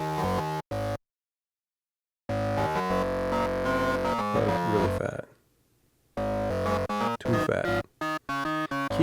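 Korg Minilogue XD synthesizer with its drive set around 50 percent, giving gritty, saturated tones: chopped loud chord bursts separated by silences, a sustained driven note that smears into noisy decay, then more staccato hits, close and without talk.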